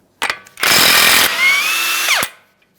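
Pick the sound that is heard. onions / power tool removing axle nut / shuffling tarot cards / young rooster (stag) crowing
power tool removing axle nut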